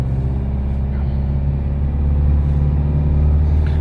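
A Nissan Navara D23 SL Silverline engine holds a steady, loud low drone at about 2,500 RPM in low-range first gear, crawling on slippery ground on road tyres.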